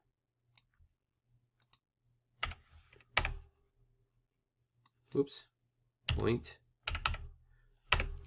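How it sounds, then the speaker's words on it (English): A computer keyboard is typed on in scattered bursts of sharp clicks and short key runs, separated by quiet gaps, with someone speaking briefly. "Keyboard's wigging out a little bit here."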